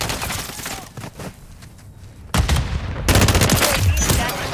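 Bursts of automatic gunfire in the video game Call of Duty MW3, loud and rapid, starting moderately, thinning briefly, then surging into heavier sustained firing near the end.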